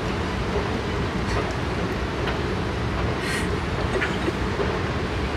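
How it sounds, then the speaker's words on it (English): A train rolls into a station with a loud, continuous rumble and rattle of wagons, broken by faint squeals and brief hissing bursts, with no one talking. "The train's here!"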